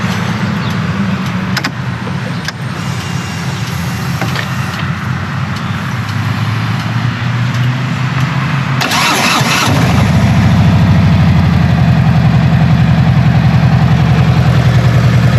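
A 2017 Harley-Davidson Ultra Limited motorcycle with S&S slip-on exhausts cranks and fires up loudly, then settles into a steady, rumbling idle close by.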